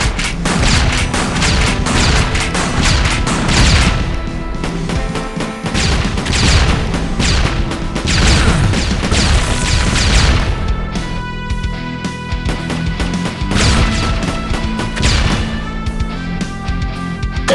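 A dense, continuous barrage of grenade explosions and crashes in the zombie shooter Age of Zombies, loud and close with overlapping booms and bursts throughout, no voices.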